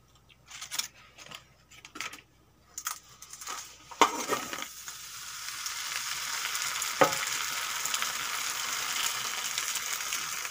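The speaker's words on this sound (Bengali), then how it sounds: "এইভাবে আর 10 মিনিট ভেজে নেব।" Taki fish paturi sizzles steadily in a pan, a dense crackling fry that starts patchy with a few sharp taps and clinks, then settles into a continuous loud sizzle with no talking.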